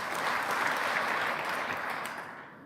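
Many hands in a conference hall clap at once as a show-of-hands vote, a dense continuous patter that holds steady and then fades out near the end, with no talking over it.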